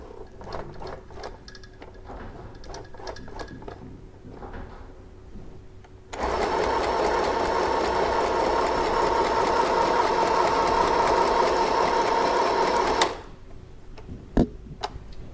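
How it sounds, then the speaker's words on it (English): An FHSM-519 sewing machine stitches a buttonhole, a loud steady mechanical whir running for about seven seconds between quieter clicks and hand-wheel ticks. "we just used the 4 steps to make the buttonhole"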